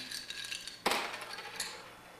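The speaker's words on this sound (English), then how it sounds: "So you just keep stirring for a while until it gets the flavors balanced well together" Ice clinks and rattles against a mixing glass as a Manhattan cocktail is stirred, with a sharper clatter near the middle and softer scraping clinks on either side, close and fairly quiet.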